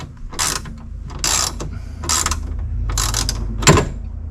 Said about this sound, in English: Just use the ratchet there.